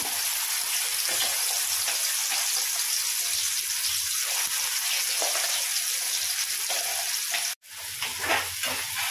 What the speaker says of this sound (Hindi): तर आता तेल गरम झालंय, आपण त्यामध्ये हा बारीक मसाला केला होता तो घालून घेऊया